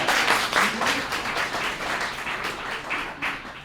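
Audience clapping at a design talk on work cultures, a steady patter of many hands lasting several seconds at moderate loudness, with no voices over it.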